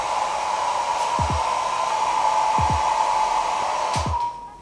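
A hair dryer blows steadily on a DIY repair job, a constant close whirring hum, while a few soft low knocks and taps sound underneath before it powers down at the end.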